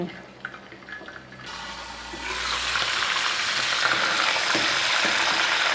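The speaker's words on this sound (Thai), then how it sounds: "ใส่ปลาร้าปลานิลลงไปเลยค่ะ ทอดให้สุกทีละด้านนะคะ ปิดฝาไว้เลยค่ะกันน้ำมันกระเด็น" Fermented tilapia fries in hot oil under a lid: after a quiet start, a soft, sustained sizzle builds and continues steadily, moderately close, with no talk.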